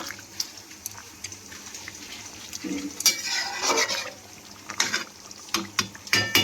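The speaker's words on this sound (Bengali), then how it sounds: "এবার গরম মশলাটা ভালো করে মিশিয়ে নেব।" A spoonful of garam masala is stirred into a thin chicken curry in a pan: a soft bubbling simmer with irregular scraping and clinking spatula strokes that swell into louder bursts, close by, with no voices.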